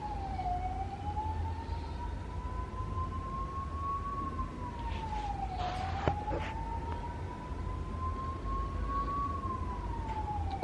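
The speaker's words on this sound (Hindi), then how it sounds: "Oh, it is fire brigade." A fire brigade truck's wailing siren rises and falls in slow sweeps outside, moderately distant and continuous over steady street traffic rumble.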